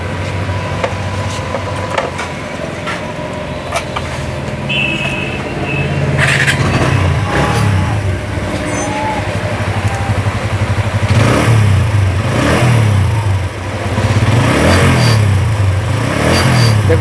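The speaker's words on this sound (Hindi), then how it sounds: "अब लगा दिया, बाइक को स्टार्ट करते हैं," A TVS Apache RTR motorcycle, under headlight repair, starts up and idles close by, then revs in several rising bursts with steady low engine rumble throughout and no talking.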